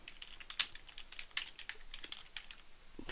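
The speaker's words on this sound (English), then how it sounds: "So I'm just going to type please choose your action." Light, quick tapping on a computer keyboard, soft and close, with irregular keystrokes and a few sharper clicks over a quiet room.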